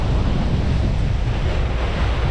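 Ocean water churned and parted by the cargo ship New Dedication at sea on the Pacific. The rush of waves and surf is steady and loud, with heavy wind buffeting the microphone.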